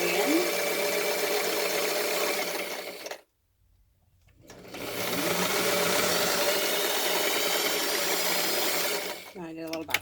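A sewing machine stitches fabric for an ear saver in a steady, fast mechanical whir, stopping briefly for a pause before running again, close up.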